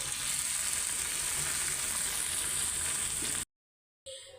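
Vegetable bhaji sizzles in a pan with a steady, hissing fry close by, then stops abruptly into silence before a brief faint clatter.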